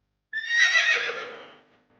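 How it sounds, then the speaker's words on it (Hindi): A frightened horse in an animated Hindi moral story, set in a deserted forest, lets out a single loud, close whinny that fades over about a second, with nothing else around it. "दोनों की लड़ाई देखकर घोड़ा भड़क गया और वहां से भाग गया।"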